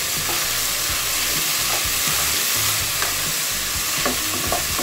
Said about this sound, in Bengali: হ্যাঁ এটা ভেজে নিব এটা সিদ্ধ হবে